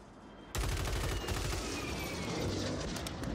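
Automatic gunfire in the online shooter Fortune's Keep erupts suddenly and continues as a dense, loud rattle of rapid shots, with overlapping bursts and no pause for about three seconds.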